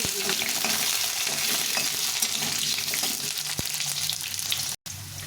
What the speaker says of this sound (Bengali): দিয়ে প্রথমে আলুটা একটু ভেজে নিই